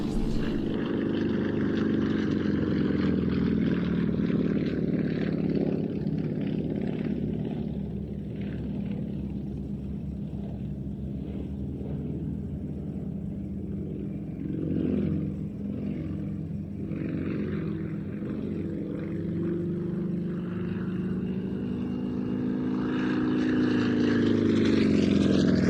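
A Pitts Model 12 aerobatic plane with a Russian radial engine drones steadily overhead at an airshow practice, its propeller pitch swelling and shifting as it maneuvers, loud and continuous.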